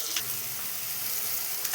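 Onion, tomato, green chili paste, turmeric and tempering spices fry in oil while being stirred, a steady soft sizzle with a couple of brief scraping stirs near the start and end, fairly faint and close, no talking.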